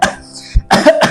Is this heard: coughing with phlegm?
yes